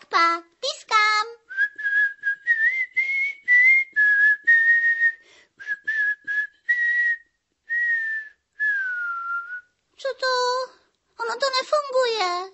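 A melodic tune is whistled in short phrases, clear and close, bracketed by brief bits of a voice talking at the start and end.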